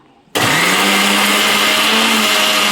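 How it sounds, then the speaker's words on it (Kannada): Mixer grinder grinding rice papad mix together with curry leaves, starting abruptly after a brief quiet moment and then running as a loud, steady whirring drone with a constant motor hum to the end. "ಇದರೊಳಗೇ ಒಟ್ಟಿಗೆ ಕರ್ಬೇವಿನ ಸೊಪ್ಪು ಕೂಡ ಹಾಕ್ಕೊಂಡು ಮಿಕ್ಸಿ ಮಾಡ್ಕೊಳ್ಳೋಣ"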